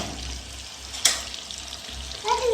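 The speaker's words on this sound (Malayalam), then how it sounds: "നമ്മൾ ചിക്കനൊക്കെ പൊരിച്ചെടുത്തിട്ട് നല്ലോണം പൊരിയണ്ട" Chicken pieces frying in a pan for biryani, a steady sizzle and crackle running throughout with a sharp spatter near the middle and a stir toward the end, close and moderately loud with no talking.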